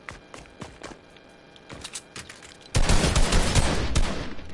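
Video game gunfire in a one-on-one match, sparse isolated shots and footstep-like clicks at first, then a loud sustained burst of rapid automatic fire for the last couple of seconds.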